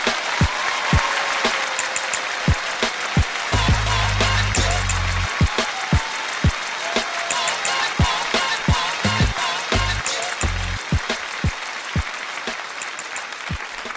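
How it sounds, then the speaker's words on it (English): An audience at a poetry performance breaks into warm applause for the poet, sustained dense clapping with scattered sharp individual claps, loud and continuous throughout, with a faint murmur of voices underneath. "give a warm round of applause."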